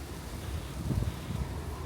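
Strong wind gusting over an open seaside terrace with a pool and sea view in Greece, a low steady rumble of buffeting against the microphone with a couple of stronger gusts midway, no voices.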